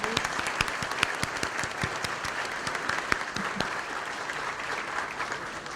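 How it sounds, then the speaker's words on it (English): An audience applauding at a monthly members' program, many scattered hand claps forming a steady, moderately quiet patter that holds evenly throughout. "Let's give a round of applause for all of"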